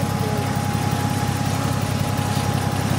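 A turbocharged 2-litre car engine idles with a steady, rapid low throb and a faint whine above it, loud and close for the whole stretch, with no talking.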